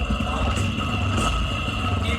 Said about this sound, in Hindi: इंजन साउंड काफी अच्छा है यार